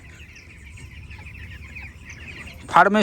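Chickens cluck steadily in a coop on a village poultry farm with a low background hum, then a sudden loud squawk bursts out near the end.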